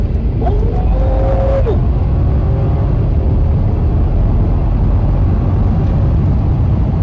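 A 2019 Mercedes-Benz S560 under hard acceleration, heard from inside the cabin as a steady low engine roar and road rumble that holds loud and even throughout, with no talking.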